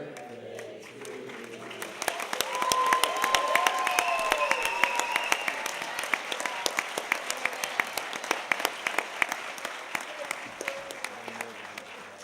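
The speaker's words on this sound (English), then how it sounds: "can we get one more round of applause for the 4 veterans who have done this?" An audience at a Vietnam veterans speaking panel, held by a high school club, breaks into sustained applause and clapping after a birthday song, swelling and then continuing steadily with crowd noise throughout.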